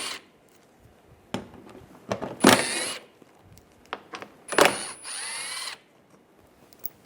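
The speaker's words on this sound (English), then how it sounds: "we'll take this shield off, use an 8mm socket. Take these bolts out." On a 2006–2009 Mercedes-Benz E350, an 8mm socket wrench backs bolts out of an underbody shield, giving close, short bursts of ratcheting and whirring with clicks and metallic clinks between them.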